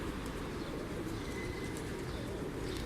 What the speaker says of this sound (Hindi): देखें कितने कबूतर बैठे हुए हैं।